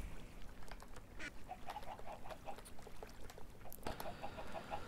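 Minecraft ducks give faint, scattered quacks in a quiet game scene, in two short clusters among soft background noise.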